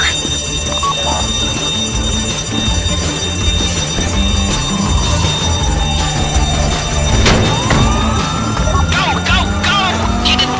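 Police car sirens wail and sweep in GTA Online during a heist getaway, loud and continuous under dense game sound, engines and music.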